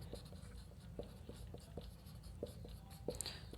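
Marker or chalk strokes scratching across a board while working out a maths problem, a steady series of short taps and squeaks close by, with no voice over them.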